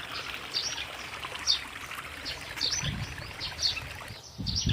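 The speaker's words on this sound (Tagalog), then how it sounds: "tatawid tayo dito sa ilog" Steady rushing of a river with a gurgling, splashing texture, fairly close, with faint bird chirps above it.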